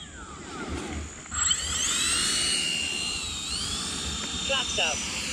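Whining electric ducted-fan roar of a radio-controlled F-14 model jet on landing approach with gear down, steady and sweeping in pitch, close by with talk in the background.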